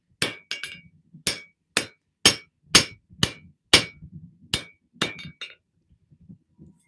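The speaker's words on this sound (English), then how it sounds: "That little wee piddly hammer." A small hammer strikes hot metal on an anvil while forging in a shop, about a dozen sharp ringing clinks in an uneven steady rhythm, close and clear, with softer taps between blows.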